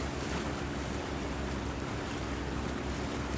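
Khanh Hoa purse-seine fishing boat speeding back to port at La Gi, Vietnam, a loud rushing wash of wind and water over a low engine drone, steady throughout.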